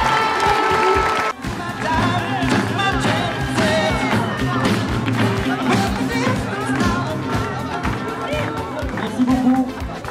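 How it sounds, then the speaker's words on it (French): A crowd at a women's firefighter championship in France applauds an Ardèche team, with continuous clapping and cheering over background music and babble for about ten seconds. "On peut les applaudir quand même parce qu'on est en Ardèche."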